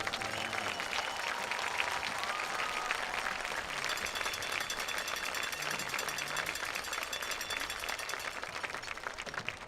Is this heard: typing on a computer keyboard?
no